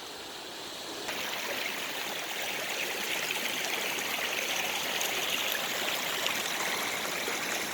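Spring water from a mountain stream flows steadily nearby, a bright continuous rushing and trickling that grows slightly louder after the first second, with no voices.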